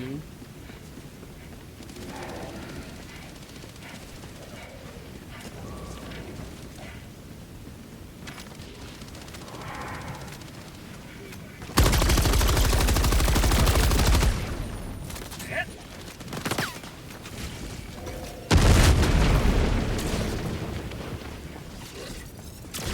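Grenade explosions in a shooter video game: two loud, broadband blasts a few seconds apart, each sustained for a couple of seconds, over a continuous bed of game noise and intermittent talk.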